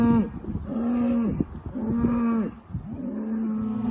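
Calves in a farm shed lowing repeatedly, several overlapping moos in long drawn-out bellows with short pauses between, loud and close, with no talk.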